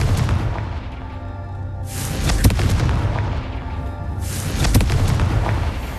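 Confringo blasting spell explosions in Hogwarts Legacy, two heavy booming blasts a couple of seconds apart, each with a sharp burst and rolling rumble over a constant low game ambience.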